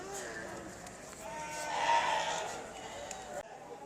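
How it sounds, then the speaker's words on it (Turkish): Lambs bleat in a short wavering cry in the middle, with a farmyard murmur and some background voices around it, at a livestock market in Şarkışla, Sivas, Turkey. "Burada da kuzular var."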